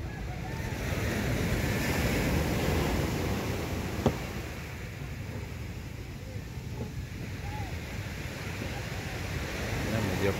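Open sea with steady surf and waves washing under a constant wind rush that buffets the microphone, with a brief knock near the middle and human voices faintly present in the background.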